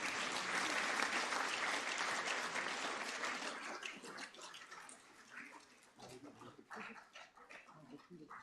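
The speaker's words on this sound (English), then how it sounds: "We can also clap for Roshni" An audience at a conference in New Delhi claps for a participant, loud and dense at first, then thinning into scattered, fading claps with faint murmuring.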